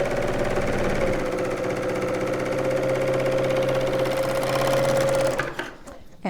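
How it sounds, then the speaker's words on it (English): A River City Sewing L850 four-thread overlocker runs at a steady, even hum with a rapid mechanical rhythm, close up, then stops abruptly near the end. "We're just doing a 4-thread overlocker."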